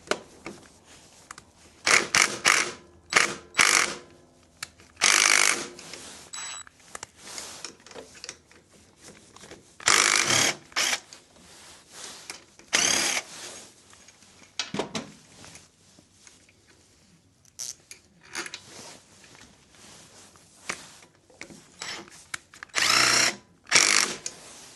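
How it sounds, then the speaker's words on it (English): A small power nut spinner runs in repeated short whirring bursts with quiet gaps between, fastening engine mounting bolts during a Lifan 110 engine swap into a Honda C90 motorcycle, close and fairly loud, no talking. "Good job I've got this little nut spinner, saves so much time."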